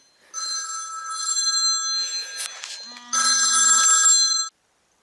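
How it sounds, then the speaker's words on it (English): A telephone rings in a workshop where a scratched lawn tractor hood is being repaired, its bright electronic trill sounding in two bursts close by with a short pause between them, loud and clear with no talking over it. "And of course the phone's got a ring. This phone rings constantly."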